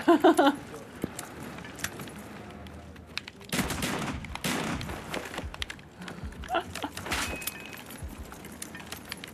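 A video game firefight with gunfire and grenades: rapid bursts of shots and clattering impacts come in dense waves, with a louder blast-like stretch midway and close, busy combat throughout.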